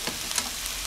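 Chicken breast sautéing in a pan gives a soft, steady sizzle with faint stirring scrapes, fairly quiet and without voices.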